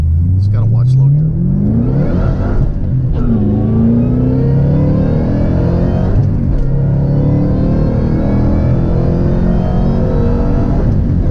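Supercharged factory Ford car engine accelerating hard on a smooth road, a loud continuous roar rising steadily in pitch through the gears with brief shift dips, heard close from inside the car.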